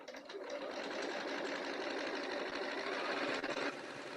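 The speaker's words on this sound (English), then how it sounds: "I love how fast a Juki bobbin winds." A Juki sewing machine winding a bobbin, a fast, steady high-pitched whir that holds evenly close by for several seconds before cutting out near the end.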